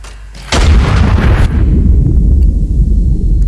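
A heavy turret gun fires in Iron Nest, a single deep, loud boom that cuts in after a quiet moment and rolls on in a long rumbling tail.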